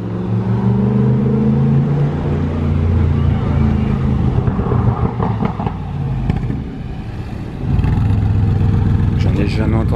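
Loud Mercedes G63 AMG engine idling and rumbling nearby on the Place du Casino in Monaco, a deep steady drone that dips briefly, then returns, while a person talks over it.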